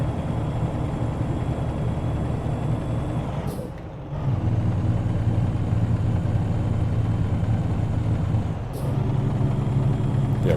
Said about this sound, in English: I'm really not used to the sound of this engine.